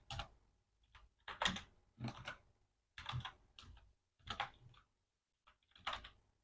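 Typing on a computer keyboard in short clustered bursts of quick key clicks separated by brief pauses, close and fairly quiet, with no talk.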